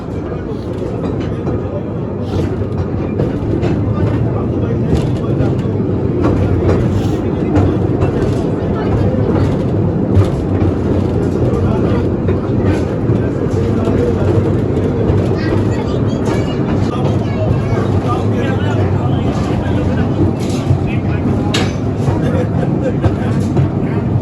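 A small train rumbling through the tunnels of the Khewra salt mine, a loud continuous low roar with rattling wheel clatter close by, and a voice speaking over it.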